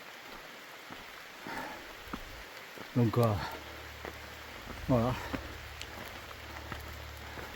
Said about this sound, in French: On finit sous la pluie.